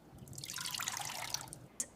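Raw rice rinsed once in water to clear dust, a close, steady trickling and dripping of water over the grains with a soft splashy wash throughout and one brief clink near the end.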